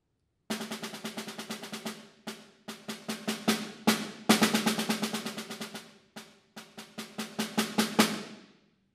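A snare drum plays a measured rhythm of single strokes and accents without rolls, crisp and close, in short phrases separated by brief pauses.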